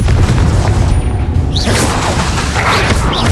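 In Hogwarts Legacy, a Confringo blasting spell explodes as a loud, full-bodied boom with a rushing, crackling burst that rolls and decays over a few seconds amid dense battle noise.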